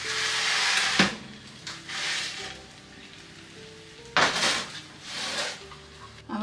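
Soup pans for an easy butternut squash soup being pulled out and set down on top of a stove, with two sharp metallic clanks and clattering scrapes of cookware over a steady background hiss.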